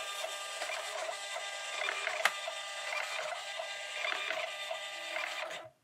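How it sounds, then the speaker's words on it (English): A thermal label printer runs steadily for several seconds while printing shipping labels for packaged soaps, a close, even mechanical whir with one brief click partway through, stopping abruptly at the end. "So here's why I love the thermal printer"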